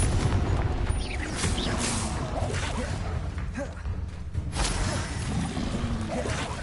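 Confringo spell explosions and fiery bursts in Hogwarts Legacy, producing a loud, dense roar of booming blasts and whooshes that carries on through the whole stretch.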